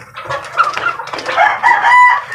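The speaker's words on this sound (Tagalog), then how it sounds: "At natutulaok yan" A young rooster (a stag) crows close by and loudly in a backyard flock. One full, raspy crow rises and stretches across about two seconds with no one talking.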